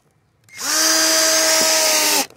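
A power drill driving a screw into wood while building a bird pen framework whines loudly and steadily for under two seconds, spinning up and cutting off abruptly.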